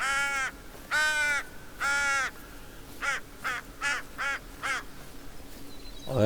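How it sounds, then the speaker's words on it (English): Crow calls ring out in the hunting game theHunter: Call of the Wild at the Te Awaroa Hunting Reserve, three long harsh caws followed by five quicker, shorter ones, loud and clear against a quiet outdoor background. "It's like a crow, what they call the crow call."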